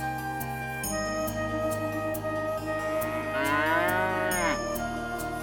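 A newly bought cow moos loudly and close by in a long, drawn-out call with a falling pitch, heard alone without talk.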